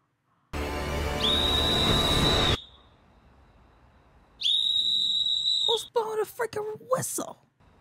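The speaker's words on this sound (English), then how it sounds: "Whistle." Two long, steady high-pitched whistle tones, one early and one later, each lasting a couple of seconds, followed by a person speaking.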